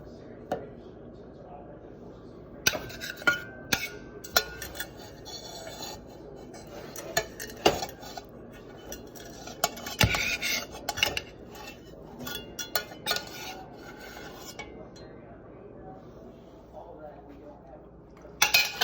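A metal utensil scrapes and clinks against a pot while collecting the last of some homemade ketchup, with several sharp knocks and steady scraping over a quiet kitchen background.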